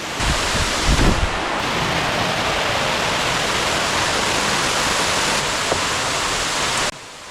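Cliff Raven Waterfall rushes in a steady, loud, broadband roar from close by, with some wind buffeting at the start before the flow cuts back a little near the end.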